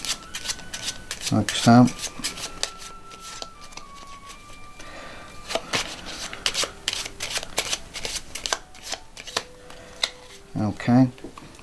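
Playing cards shuffle in two brief riffling bursts, with soft rubbing and handling noises between them and a voice speaking briefly.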